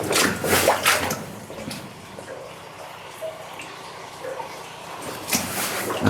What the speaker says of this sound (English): the splashing water